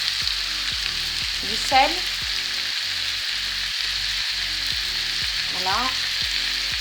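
Food frying in a pan, a constant bright sizzle with regular stirring scrapes and clinks at a steady rhythm, while a voice briefly speaks over it.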